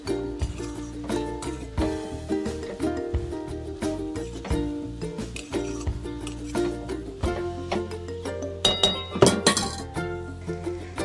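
Cooked potatoes are smashed in a metal pan, a steady series of close clinks, taps and scrapes from utensil against pan, irregular in rhythm, with no talk.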